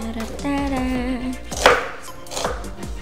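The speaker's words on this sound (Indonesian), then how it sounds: "ini sekarang bawang bombaynya kita iris-iris, jangan terlalu panjang dan jangan terlalu pendek ya" Onions sliced with a knife on a board for a Spanish omelette: a few close, crisp chops at an uneven pace over a low hum, no voices.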